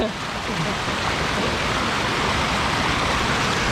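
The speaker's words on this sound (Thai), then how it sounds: "ดูน้ำไหลโจกโคกเลย" Floodwater from the Phetchabun mountains rushes strongly through Khon San district, a dense, steady broadband roar of flowing water heard up close, with faint voices in the background.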